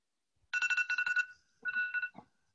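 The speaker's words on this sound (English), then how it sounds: "Sorry, that was my phone that went off." A mobile phone ringtone goes off during a first-responder wellness seminar, with two bursts of a bright, repeating electronic melody separated by a short pause. It is fairly loud and close, and there is no talk over it.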